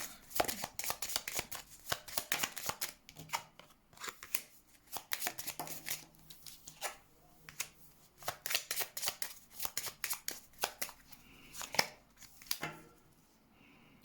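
Tarot cards being handled, shuffled and laid out, a quiet close series of crisp flicks, slaps and riffles in irregular bursts with short pauses.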